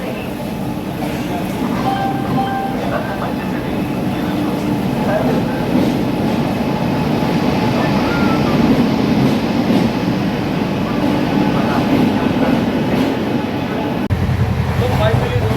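A train pulls in at a railway platform with a loud continuous rumble and rolling wheel noise that fills the whole stretch, joined near the end by a deeper surge. Faint voices mix in beneath it.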